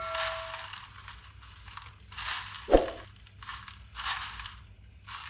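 Crisp crunching bursts repeat four or five times at a steady pace, close and fairly loud, as oil-free crispy fried onions are crushed.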